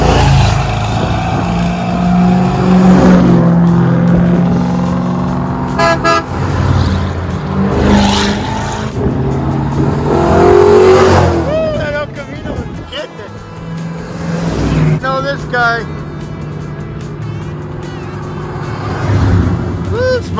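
Classic Chevrolet cars, including convertibles, roll past at an outdoor car cruise, their engines rumbling loudly nearby in waves, with horn toots and people talking over the passing traffic.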